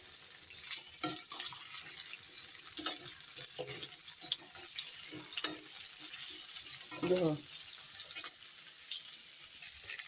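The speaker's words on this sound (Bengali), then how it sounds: "এখন দেখো পনিরটা জমতে জমতে আমরা এখানে আলুটা ভেজে নিচ্ছি" Potato pieces frying in oil in a pan while paneer sets nearby give a steady low sizzle with occasional stirring scrapes and clatter, close and without talk.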